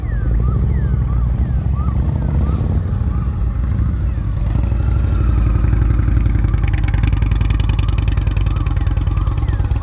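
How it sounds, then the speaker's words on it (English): A motorcycle chugs along at slow speed during advanced slow-speed riding practice in Texas, a loud, close, uneven engine rumble throughout with faint chirps behind. "Bike is chug-a-lugging."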